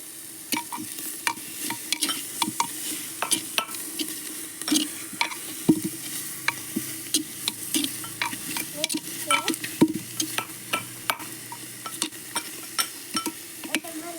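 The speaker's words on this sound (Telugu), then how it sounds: "చూడండి హీట్ అవుతున్నాయి చికెన్ తర్వాత మిక్స్ చేయాలి" Chicken heating and being stirred in a clay pot, a steady, close sizzle broken by repeated scraping strokes of a spoon against the pot, with no talking.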